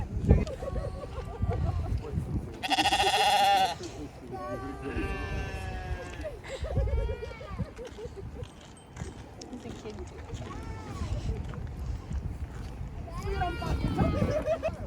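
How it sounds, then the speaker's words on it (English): Sheep bleat repeatedly on a farm, several overlapping calls rising clearly above steady chatter and background noise, with a burst of louder activity early on and more bleats spread throughout. "There's a bunch of farm animals. Sheep."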